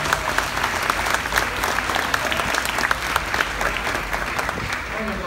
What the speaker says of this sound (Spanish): Un aplauso para Germán de Esa, ¿verdad?